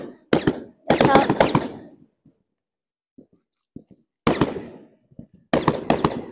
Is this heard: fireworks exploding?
yes